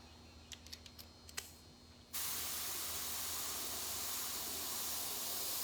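Airbrush spraying paint onto a baseball helmet: a few short clicks and taps, then a sudden steady hiss of air and paint that starts abruptly and continues evenly, close and moderately loud.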